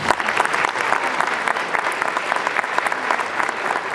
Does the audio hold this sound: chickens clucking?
no